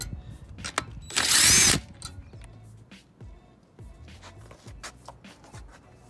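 An impact or power tool bursts loudly for about half a second while zipping wheel nuts off car wheel studs, followed by quieter clinks and shuffling of the loosened parts.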